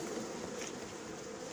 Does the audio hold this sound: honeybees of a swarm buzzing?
yes